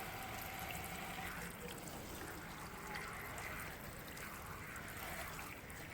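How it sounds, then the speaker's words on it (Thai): Water washes over hollowed-out tomatoes being rinsed for candied tomatoes, a faint, steady wash of running water with no distinct splashes. "ล้างน้ำหลายๆรอบนะคะ"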